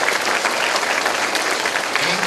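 Polite applause from a school assembly crowd at a Music In Our Schools Week event, a steady dense patter of many hands clapping throughout with no whistles or cheers.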